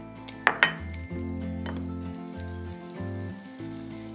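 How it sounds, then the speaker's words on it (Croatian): Butter melts and sizzles in a frying pan back on the fire after onions were removed, a faint steady hiss under clinks and scrapes of cookware, with a couple of sharp knocks early on. "U nju sada dodamo preostali maslac."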